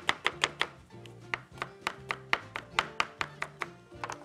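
Knife chopping sausage and sliced onion on a cutting board for a pizza, a steady series of sharp close taps in an even rhythm, with no talking.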